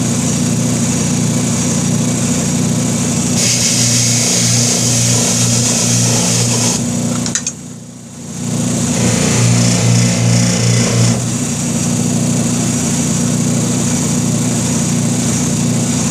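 A buffing wheel works an aluminium oil tank top cover for a Big Dog motorcycle, a loud steady motor whine that shifts in pitch as the part is pressed on and briefly drops away midway.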